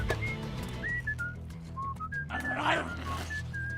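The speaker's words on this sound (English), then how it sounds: "Spider-Man is whistling his own theme song while pulling down Rhino's pants" Spider-Man whistles his own theme song in The Amazing Spider-Man 2, a short series of clear melodic whistled notes over a low background of music and movement.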